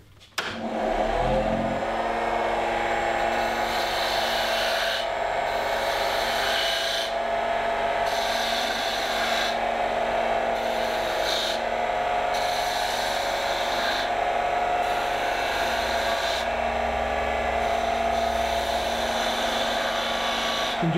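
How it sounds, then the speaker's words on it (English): Wood lathe spinning at high speed while a fingernail gouge cuts fine detail into poplar, a steady loud rasping scrape with the motor whine underneath, continuous and close, easing and pressing in a few short pulses. "I'll show you how the fingernail gouge can get in and do some really nice tight detail work"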